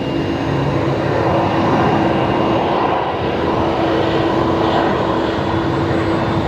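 An Embraer Phenom business jet climbs out from Brisbane Airport, a loud, steady roar of jet engine noise holding for several seconds with a faint tonal whine above it, no voices.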